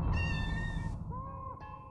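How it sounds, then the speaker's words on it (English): The cat character known as the Judge meows in the video game OFF: one long, loud, clear meow, then a quieter, shorter call after a brief pause, over a low ambient hum. "I am meowing at my lungs fullest."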